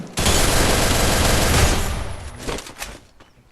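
Video game gunfire in a shooter match, a dense continuous fusillade of rapid shots that fills most of the clip before thinning into a few scattered bursts near the end.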